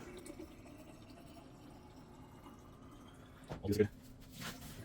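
Water sputtering from a GE Cafe refrigerator dispenser just after a filter change, a brief burst of splashing and gurgling near the end amid faint background hum, with air still coming through the line.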